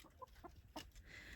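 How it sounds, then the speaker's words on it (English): Backyard farm chickens cluck in a few short, quiet calls scattered over low background noise, with no talking. "And there's my chickens."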